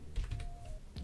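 Computer keyboard typing, a short burst of several quick, soft key clicks close to the mic with no talking.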